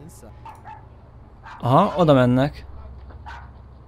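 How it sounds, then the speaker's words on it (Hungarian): A dog lets out one loud, drawn-out burst of barking lasting about a second, while someone talks quietly in Hungarian before and after it. "És közben a kutya is nagyon ugatja."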